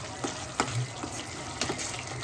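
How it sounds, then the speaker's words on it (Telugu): Spinach paste for palak paneer frying in a pan, a faint steady sizzle with soft bubbling pops and a few light stirring clinks, no voices. "చూడండి, ఇలా వేగుతుంది పేస్ట్ అయితే."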